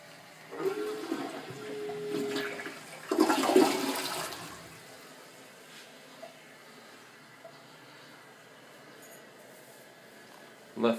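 A toilet in a rental home left damaged and trashed by a tenant flushes in a brief rushing surge, followed by quieter gurgling and hiss as the bowl refills, with faint voices nearby.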